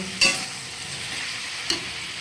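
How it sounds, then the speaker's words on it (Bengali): Chili powder and ginger paste being stirred and fried in a hot pan, a steady sizzle with two sharp scrapes of the spoon, close and without speech. "দিয়ে দিলাম লঙ্কা গুঁড়া দিয়ে দিলাম আদা বাটা দিয়ে খুব ভালো করে এটাকে নাড়াচাড়া করে কষিয়ে নেব"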